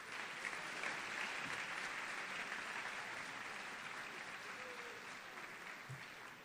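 Steady applause from a sizable audience at a high school honors convocation, dense and continuous clapping that holds at an even level for several seconds.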